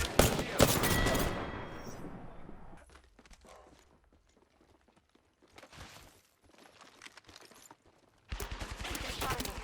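Apex Legends weapon fire crackles in quick bursts, loud at the start, then drops to scattered shots and in-game footsteps and movement before another sharp burst of shooting near the end.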